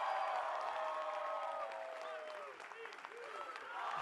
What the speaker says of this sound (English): So please give him the best round of applause you can.